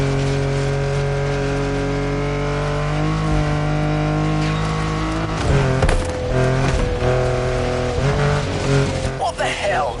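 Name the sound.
car engine driving in a video game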